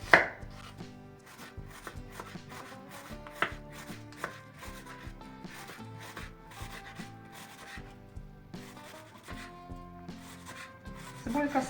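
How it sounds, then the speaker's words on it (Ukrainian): Rapid, steady knife chops slicing an onion into half-rings on a cutting board, close and crisp, continuing throughout with a busy tonal background. "Цибулю будемо різати півкільцями. Будемо смажити її."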